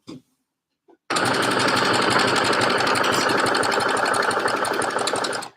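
A sewing machine, used instead of an overlocker, joins the side seams of jersey pocket bags for joggers, running in a loud, steady rapid whir after a second of near silence with a few faint knocks.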